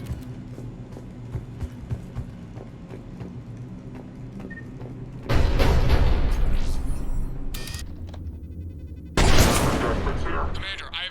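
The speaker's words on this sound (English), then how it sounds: "The cannon fire is clearing the way." Cannon fire in the video game Mass Effect 3 comes as two heavy, booming blasts that rumble and fade, loud against a quieter background of ambient game noise.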